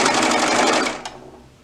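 A sewing machine runs steadily while stitching a leggings seam around the crotch gusset, a loud, close continuous whir that stops near the end, leaving a faint tail of quiet room noise.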